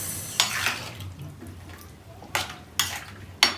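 A spoon stirs chicken soup in a pot topped up with water, giving a few sparse clinks and scrapes against the pot over a faint watery background, fairly close and fairly quiet.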